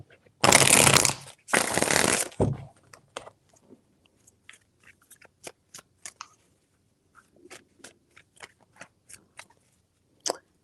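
Tarot cards are riffled in two quick loud bursts at the start, followed by softer scattered taps and slides as the deck is handled, close and quiet.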